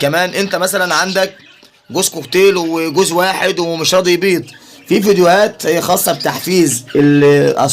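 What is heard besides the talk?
None of the usual background noises is heard.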